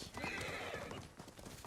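A horse in the video game Ghost of Tsushima, a whinny over quick clip-clopping hooves, brief and faint, with a little talking in the background.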